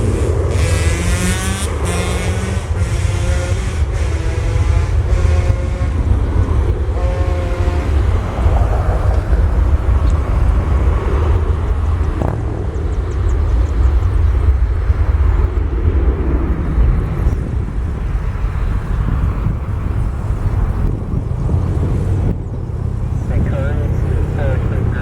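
A Southwest Airlines jet at Cleveland airport roars loud and steady with a deep rumbling engine drone and shifting whine, heard from nearby on the ground, with a voice speaking over it.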